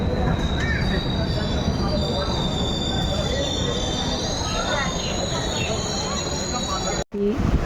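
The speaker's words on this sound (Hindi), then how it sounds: "हम लोग की ट्रेन पहुंच चुकी है ठाकुरगंज जंक्शन में" A train pulls into Thakurganj Junction on the Sikkim Mahananda Express with a continuous loud rumble and high wheel squeal on the rails, heard from on board, with a brief dropout near the end.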